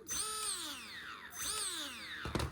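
Electric motor of an SCX6 RC crawler whines up and then winds down off throttle twice, its pitch sliding downward each time, close and fairly quiet, with a brief clatter at the end.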